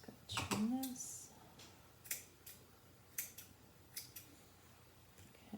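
Scissors trim paper for a handmade bow, a few quick, close, crisp snips spaced across a quiet moment, with a brief voiced sound near the start.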